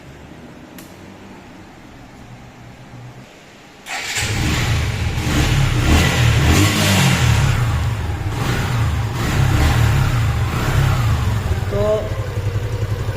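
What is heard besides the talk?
Suzuki Gixxer 155 motorcycle engine revving, free silencer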